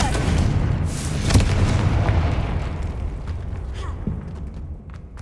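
A Confringo blasting spell explodes in a Harry Potter video game, set in a haunted Hogsmeade: a loud, booming burst over a dense, rumbling roar that stays heavy throughout.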